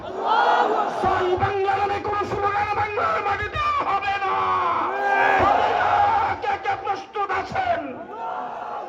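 A large crowd chants a religious slogan in unison at an Islamic sermon gathering, loud massed voices rising and falling in repeated waves.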